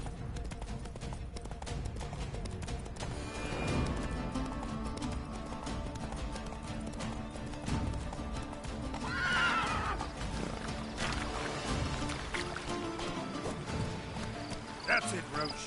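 Roach the horse gallops in The Witcher 3, with rapid hoofbeats and an occasional neigh mixed into dense game audio and background music, while voices talk over it throughout.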